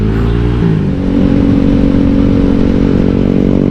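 A tuned motorcycle engine revs hard toward about 9,000 rpm, a loud, close, steady buzzing drone with a brief dip near the start before holding high.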